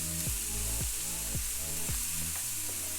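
Onions and other vegetables fry in oil in a pan with a steady close sizzle, broken every half second or so by the scrape and clatter of stirring.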